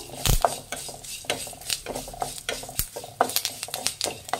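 About two tablespoons of cumin seeds fry on a medium flame while a spoon stirs them, scraping and clinking against the pan in irregular bursts, close and fairly loud, with a soft sizzle underneath.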